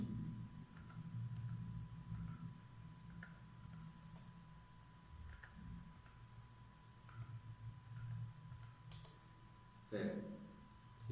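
Sparse, faint key taps on a computer keyboard while entering AutoCAD polyline width values, with scattered clicks over a low background hum.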